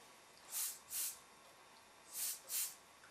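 An airbrush sprays paint while an artist illustrates feathers, giving four short, soft hissing bursts in two pairs, each lasting under half a second and separated by quiet pauses.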